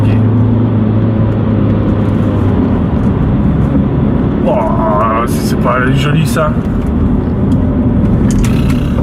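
A BMW 120d drives along a narrow road with a steady, loud engine and road drone inside the cabin. A person speaks briefly over it and an oncoming car passes.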